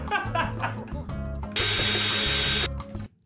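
Power drill whirring in short bursts, then one sustained loud high-pitched grinding run of about a second that cuts off abruptly, close by, with faint background voices.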